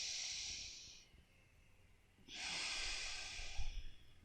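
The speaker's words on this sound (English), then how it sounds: "Inhale. Exhale." Slow, deep breaths during a pregnancy-safe core yoga exercise: a long airy exhale, a pause, then another breath, close and soft.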